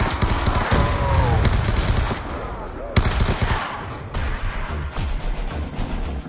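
Gunfire in Black Ops II survival mode on the Farm map: dense bursts of automatic shots and booms, loud and close, with brief gaps and a sharp crack near the three-second mark.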